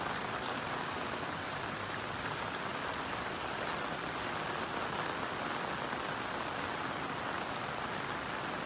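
Steady rain falls on a farm, a dense, even hiss of drops on surfaces that continues without a break, loud and close, with no voices.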